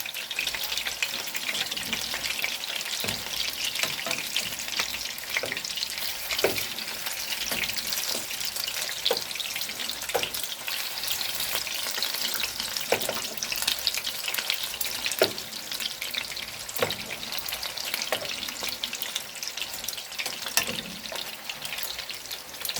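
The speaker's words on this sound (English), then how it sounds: "the meatballs have been cooking, so we just want to turn them around, turn them over" Meatballs fry in a pan with a steady, loud broadband sizzle throughout, broken by occasional clicks and scrapes as they are turned over, with no voices.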